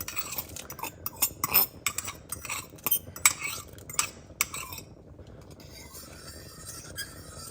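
Soaked tapioca pearls added to boiling milk and stirred in a pot: a run of faint metallic spoon clinks and scrapes, irregular and close, fading to a quiet simmering hiss.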